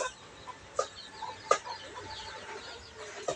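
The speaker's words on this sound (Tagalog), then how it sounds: "Update ko lang sa inyo yung aking mga natirang labuyo ngayon." Native labuyo chickens give soft, scattered clucks and short calls at a moderate distance, with a few louder chirps standing out over a quiet outdoor background.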